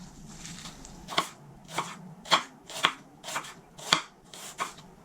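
An onion is chopped with a knife on a board, about eight crisp, evenly spaced cuts close up, with a faint rustle between strokes and no voices.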